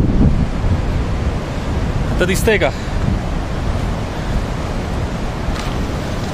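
Rushing water roars steadily where the Sutlej and Spiti rivers meet in the Spiti Valley of the Himalayas, heard as a loud broad wash with wind buffeting the microphone, and a person briefly speaks over it.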